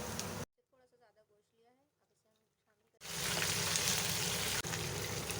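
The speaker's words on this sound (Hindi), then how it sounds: "अब उसे फ्राई कर रहे हैं, हम गोल्डन ब्राउन करेंगे।" Small onions fry toward golden brown in a pan. A brief sizzle at the start gives way to a quiet stretch with a voice talking, then a loud, dense, continuous sizzle takes over and holds to the end.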